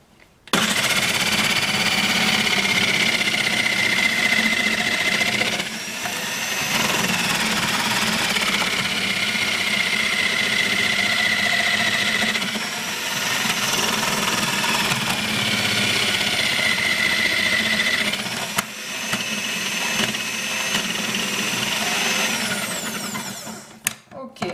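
Electric food processor running steadily while grating carrots for a raw salad, a loud continuous motor whine with brief dips and restarts, lasting about twenty seconds and heard alone.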